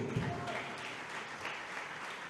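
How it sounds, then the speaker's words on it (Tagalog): A church congregation claps during a preaching service, a dense, continuous patter of applause from many hands filling the room, with voices mixed in underneath. "Kulang na palakpak yan"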